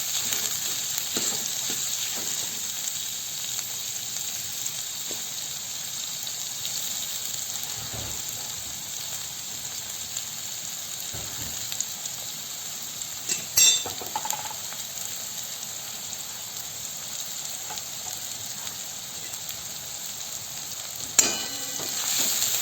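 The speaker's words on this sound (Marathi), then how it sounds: "आणि कांदा छान भाजायचा आहे जरा त्याचा असा कलर चेंज होईपर्यंत" Onion frying in a pan for a potato dish, a steady close sizzle that runs throughout, with a few occasional soft clinks and stirring knocks.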